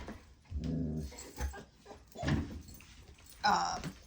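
A dog whimpers and yips in short high whines at a flea market haul filming, several brief bursts spread across the moments with soft movement noise between.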